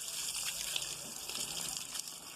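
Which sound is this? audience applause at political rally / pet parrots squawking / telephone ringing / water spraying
water spraying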